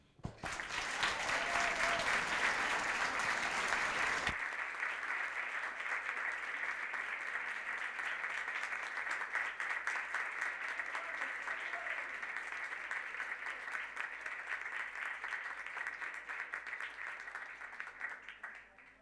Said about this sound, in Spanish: damos un aplauso